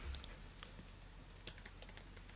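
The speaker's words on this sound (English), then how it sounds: "I type in post and save." Quiet typing on a computer keyboard, with a short run of light key clicks close by and a steady hum underneath.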